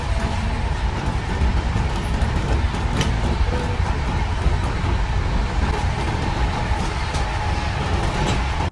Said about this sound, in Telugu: ప్లాట్ఫామ్ నెంబర్ 1 మీదకి అయితే ట్రైన్ వచ్చిందన్నమాట.